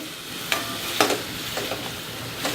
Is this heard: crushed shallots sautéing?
yes